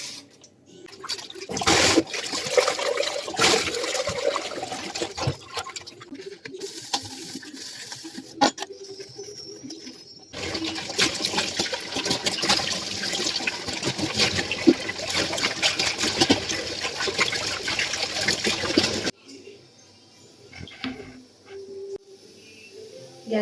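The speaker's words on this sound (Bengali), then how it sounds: "আমরা ঠাকুরের বাসনটা ধুয়ে নেব" Tap water runs and splashes steadily while puja utensils are washed in a home kitchen, with clinks of metal vessels and brief pauses where the flow stops.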